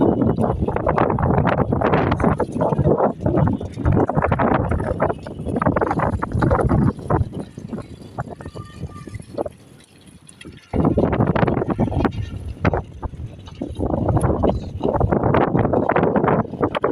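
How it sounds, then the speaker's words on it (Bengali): Strong wind blowing outdoors under a cloudy sky, roaring in loud gusts against the microphone with a brief lull midway before surging again. "আকাশে মেঘলা, অনেক বাতাস চলতেছে"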